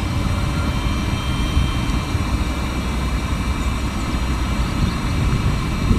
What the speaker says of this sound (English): it's a bit slower in blowing up the air mattress than the last one